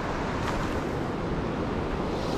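Water of the River Almond rushes steadily while someone fishes, a constant broadband flowing hiss with no pauses and no speech.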